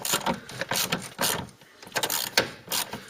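A ratchet works a crusty, crud-covered captive nut loose on a MK3 Ford Cortina during inspection, with quick bursts of metallic clicking in uneven rhythm and short pauses, close and moderately loud.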